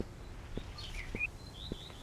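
Birds call in a video game about birdwatching, with soft high chirps and short whistled notes repeating over a quiet ambient background, faint and with no talking.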